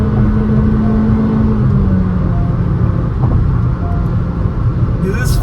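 Honda Elevate ZX CVT compact SUV engine revving hard at full red line in third gear, a loud steady drone with a sustained tone that slowly dips, continuous road and engine noise throughout.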